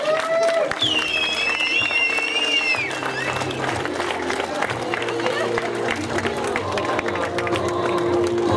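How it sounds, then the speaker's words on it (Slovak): Crowd at the Continental Pustý hrad 2018 running race awards applauding and cheering, a steady dense wash of clapping lasting throughout, with a loudspeaker voice and whistles over it. "A skúsme im teraz ešte raz všetkým trom spoločný veľký potlesk,"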